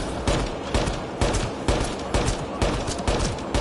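Turret gunfire in Mass Effect Andromeda on Insanity difficulty, a steady rapid run of loud, close bursts repeating about twice per second without pause.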